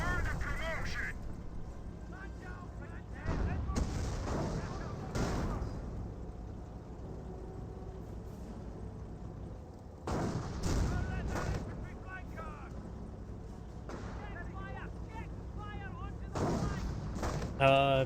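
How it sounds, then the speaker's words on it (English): An artillery decoy barrage in the video game Company of Heroes brings booming shell impacts and rumbling blasts at intervals, while a commentator talks throughout over the continuous battle noise. "British player has decoy barrages. There was a decoy barrage."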